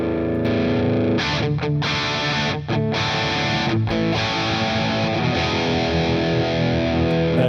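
Heavily distorted electric guitar played through a Marshall JCM 800 style amp plugin for an 80s rock tone, sustained chords ringing continuously and loudly with brief choppy breaks between strums.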